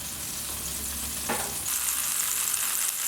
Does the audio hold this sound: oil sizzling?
yes